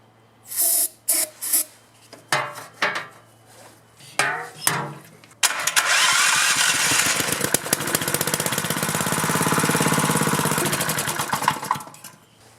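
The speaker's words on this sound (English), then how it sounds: "just going to jump across those two studs that I showed you on the starter." A small engine whose carburetor may be gummed up gets a shot of ether and is cranked by jumping the starter studs: several short bursts of cranking, then it catches and runs steadily and loudly for about seven seconds before cutting off.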